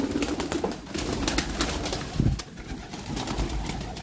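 Pigeons coo steadily and close by in a loose, overlapping rhythm, with soft rustling and shuffling among the flock and no talking.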